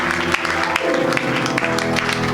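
A church congregation applauding during a Sunday service, a loud dense burst of clapping from many hands with musical tones sustained underneath, filling the room without pause.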